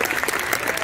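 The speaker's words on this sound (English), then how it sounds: "Big round of applause, everybody." Audience at a college hypnosis show breaking into applause, a dense, loud wash of many hands clapping close by, steady across the short burst.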